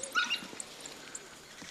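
African wild dog pups at feeding time give faint, high-pitched whimpers and yips, a quick cluster early on and then scattered soft squeaks over quiet outdoor background.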